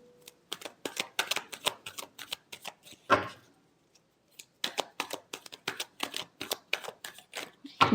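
Tarot cards being shuffled in quick, repeated riffling bursts, a short pause midway, then more rapid shuffling, close and fairly loud with no talking.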